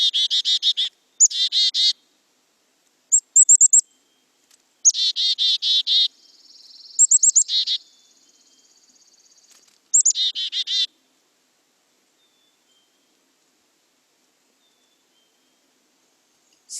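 Backyard songbird singing close and clear in short bursts of high, buzzy chick-a-dee-like notes, including a two-note whistled call, with pauses of silence between phrases.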